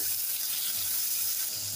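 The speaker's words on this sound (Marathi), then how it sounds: "आपण टोमॅटो सुद्धा 1-2 मिनिटं परतून घेऊया." Tomatoes are sautéed in a pan for a Kerala-style sambar with a close, steady, hissing sizzle that fills the whole moment, and no voices are heard.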